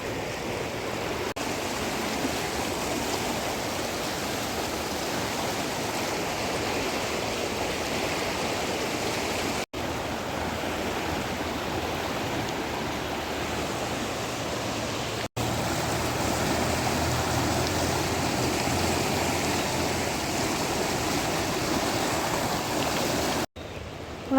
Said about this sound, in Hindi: इधर भी कितनी तेज़ शोर आ रहा है गंगा जी का, कितनी तेज़ी से बहाव बढ़ रहा है